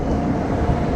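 Island Express, the Kanniyakumari to Bengaluru train, rolls past close by with a heavy, steady low rumble of wheels and carriages filling the short moment.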